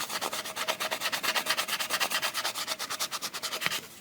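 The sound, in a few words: scraping fret dust and grime off Gibson guitar nut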